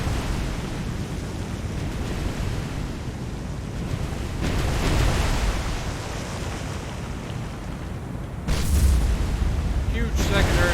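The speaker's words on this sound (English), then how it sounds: "Huge secondary explosion." In the naval video game War on the Sea, a huge secondary explosion on a damaged ship rumbles as a broad, booming roar over ocean-like noise, swelling midway and again near the end.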